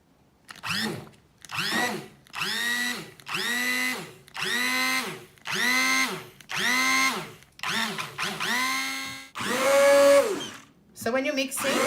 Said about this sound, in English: So when you're mixing with your hand blender, short bursts is recommended